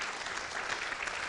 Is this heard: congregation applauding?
yes